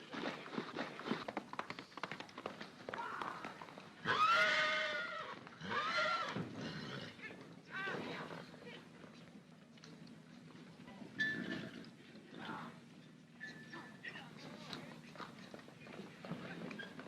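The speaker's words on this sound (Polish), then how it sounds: "Dobry koń, tylko świszcze." A horse in a western film scene gives a short whinny partway through, over a busy outdoor background with faint steps and movement.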